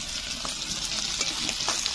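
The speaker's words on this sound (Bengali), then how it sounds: "মাছ ভাজছে দেখো" Fish frying in a pan in a home kitchen makes a faint, steady sizzle with light crackles and occasional soft stirring or scraping clicks, with no talk.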